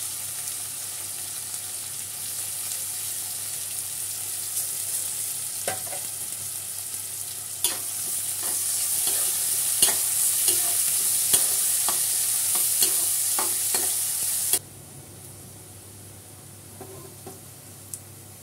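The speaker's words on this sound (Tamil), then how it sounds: "இப்போ வந்து வெங்காயத்தை சேர்த்துக்கலாம்." Onions and green chillies frying in oil in a pan for hotel-style vadacurry, a steady close sizzle with repeated clinks and scrapes of stirring, the frying dropping quieter near the end.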